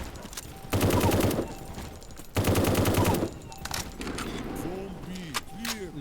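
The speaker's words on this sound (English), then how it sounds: "Shooting through walls is crazy." Two loud, rapid automatic gunfire bursts in military shooter A.W.O.L, each about a second and a half long, followed by scattered shots and metallic clinks and pings.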